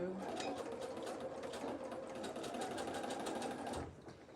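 A sewing machine runs steadily, stitching fabric in a continuous fast mechanical whir with rapid rhythmic needle clatter, close and loud, stopping abruptly near the end.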